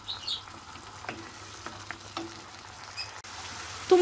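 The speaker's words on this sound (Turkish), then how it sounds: "Biraz domatesimiz pişsin." Canned tomatoes cook with garlic puree in a pan, giving a soft, steady sizzle and bubbling close by with a few faint stirring clicks.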